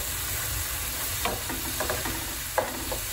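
Empanada filling is stirred in a pan over a low sizzle, with several soft scraping strokes of a utensil and a small knock near the end.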